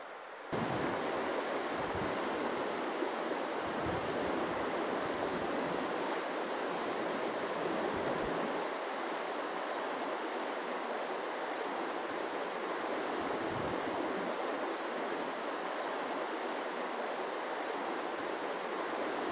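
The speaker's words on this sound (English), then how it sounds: "I've reached the creek" Swift Camp Creek in the Clifty Wilderness rushes with a steady, even roar of flowing water, close by and continuous with no voices.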